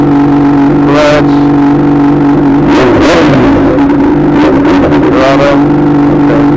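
Honda CBR600RR sport bike with a straight pipe revving hard during a burnout, a loud close engine roar holding a steady tone and rising into repeated throttle surges, with no talk over it.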